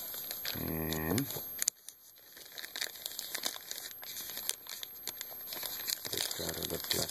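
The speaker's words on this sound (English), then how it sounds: "take out of the plastic bag" A plastic bag crinkles and rustles up close as a new replacement screen for a Dell E6510 laptop is unwrapped, giving steady crackling handling noise throughout, with a brief tonal hum early on and no talk.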